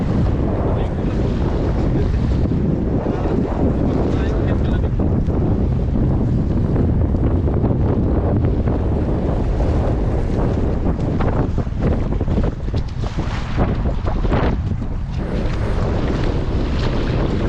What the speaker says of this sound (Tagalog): Lakas ng hangin. Sinsya po sa hangin.